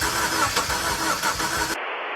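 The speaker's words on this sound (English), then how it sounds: "I hear compression. Starter's working." A 2002 Subaru Forester with a used replacement engine cranks over with a rapid, even series of loud starter pulses, then cuts off abruptly into a lower, quieter hum.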